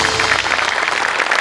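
Studio audience applauding loudly at a Marathi TV comedy show, a dense, steady clatter of many hands clapping that holds evenly for the whole moment with no talk over it.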